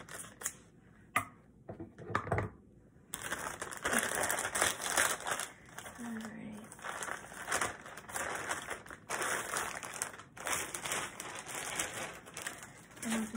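Crinkling plastic and paper rustling close by, with scattered snips and crunches as a package is cut open.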